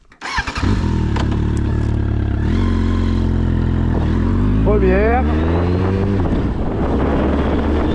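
A 1996 Suzuki GSX-F Bandit 1200 motorcycle with over 124,000 km starts up and idles loudly and close, its engine revving up briefly mid-clip with wind noise, while a voice speaks briefly.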